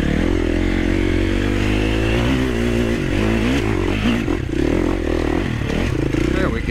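A trail motorcycle's engine revs in short throttle blips as the rear tire spins and scrabbles on slick ground, loud and close throughout, with a rider's voice mixed in over the engine.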